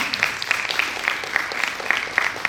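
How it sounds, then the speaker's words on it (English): Audience applause in a hall at the grand finale of a public sector debate competition, a steady patter of clapping with no voices, moderately loud and continuous through the moment. "Don't let that applause wane as she makes her way up here."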